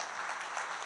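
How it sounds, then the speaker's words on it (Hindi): Applause from a mushaira audience, a faint but continuous patter of many hands clapping with no voices over it. "सही में जोरदार ताली बजाओ यार।"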